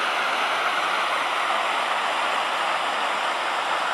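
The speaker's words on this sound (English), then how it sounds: "I don't know if you can even hear me over this. But this is the last of the falls." Steady, loud roar of a waterfall at a nature preserve, a dense unbroken rush of falling water close by with no voices over it.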